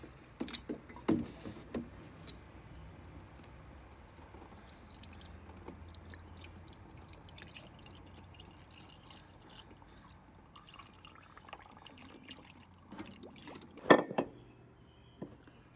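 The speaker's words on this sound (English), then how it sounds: "So she's definitely dripping" Quiet, scattered drips and small splashes of fluid leaking from a Pontiac land at irregular intervals, with a sharper burst of dripping near the end, against a low background hum.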